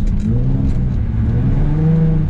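A Nissan 350Z engine revving hard while drifting, a loud, steady, close engine drone with rising and falling pitch and faint tire hiss, filling the whole moment.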